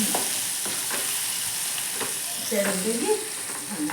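Spices crackle and sizzle in hot oil as tempering for a chutney, with light stirring scrapes, a steady close frying hiss throughout.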